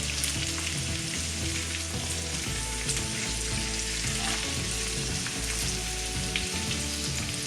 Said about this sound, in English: Give this a mix around, get everything coated in the oil and the chorizo flavour.